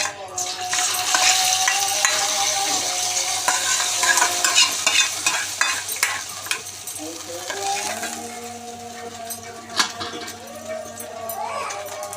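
Tempering being added to tamarind rasam on a stove gives a broad, steady sizzle with frequent sharp metallic clinks and scrapes from a pot. Faint tonal sounds run through the middle, and no speech is heard.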